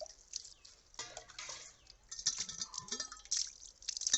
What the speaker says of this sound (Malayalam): കുറച്ച് വെള്ളം ഒഴിച്ചൊന്ന് കഴുകി നോക്കാം.